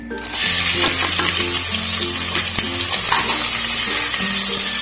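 Sliced onions hiss and sizzle steadily as they fry in masala in a pan for a Tamil-style vegetable biryani, loud and close, with occasional stirring clatter and no talk.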